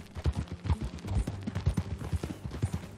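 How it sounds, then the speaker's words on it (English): Horse hooves clip-clopping during a ride in the video game Red Dead Redemption 2, a steady rhythmic run of close, punchy thuds with no speech. "Okay, Missy. Follow me. Let's ride"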